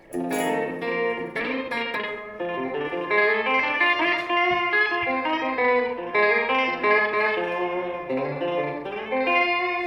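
A sustained, effects-laden guitar plays chords with a warm, swirling organ-like tone, steady and full throughout with no voices.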